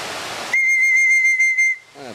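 A single sustained, high-pitched human whistle calling pigeons rings out steadily for just over a second, then stops, followed by a faint rustle.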